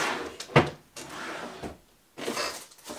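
A wooden drawer in an office slides and knocks once early on, followed by quieter handling rustles and movement, with no speech over it.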